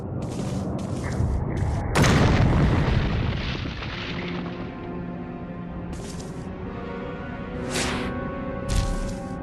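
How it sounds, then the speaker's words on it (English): A loud video game fireworks boom bursts out early, followed by rumbling game music and scattered sharp crackles and pops; no talking. "I'm setting out 4th of July fireworks."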